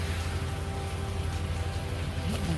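Steady rain falls hard around a motorcyclist stopped at a highway toll plaza, a continuous dense hiss with low rumbling underneath and no voices.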